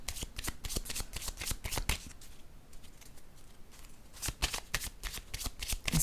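Tarot cards shuffled by hand during a reading: rapid riffling bursts and card slaps, close and crisp, pausing briefly near the middle before a second flurry of shuffling, with no talking.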